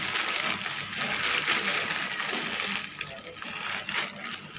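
Vermicelli (sevaiyan) sizzling in hot oil with cardamom seeds, a steady loud crackling hiss that runs throughout with slight surges, close up.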